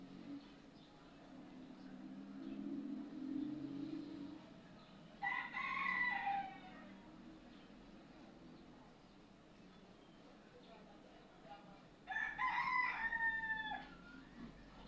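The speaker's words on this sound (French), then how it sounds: "Ah, ce coq." A rooster crows twice from some distance, two clear cock-a-doodle-doo calls several seconds apart over a quiet indoor background with a faint low hum.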